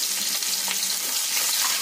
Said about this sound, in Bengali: এই যে পেঁয়াজটা দিয়ে দিলাম, পেঁয়াজটা একটুখানি ভাজা হয়ে গেল